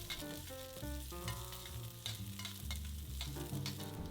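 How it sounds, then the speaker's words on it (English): Ginger and vegetables stir-fried in oil in a wok over medium-high heat, a loud continuous sizzle with repeated spatula scrapes and clinks throughout, backed by a low steady hum. "Now in a wok on medium-high heat, add oil and stir fry the ginger"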